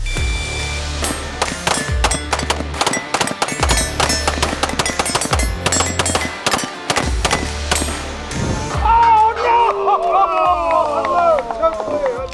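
Gunshots at a head-to-head shooting competition, rapid sharp reports fired in quick succession, loud and close, followed by excited shouting and voices.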